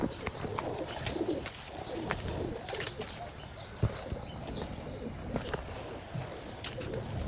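A pigeon coos softly amid rustling and flapping wings in a Rawalpindi pigeon loft of topi pigeons, with faint talk and ambient noise around.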